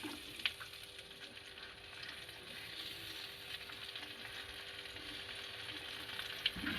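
Small fish coated in mustard and poppy seed paste and wrapped in leaves fry in a hot pan turned to very low heat, giving a soft, steady, faint sizzle with a couple of small crackles and no talk.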